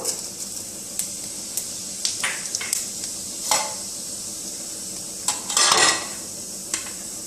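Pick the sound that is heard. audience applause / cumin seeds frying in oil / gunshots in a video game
cumin seeds frying in oil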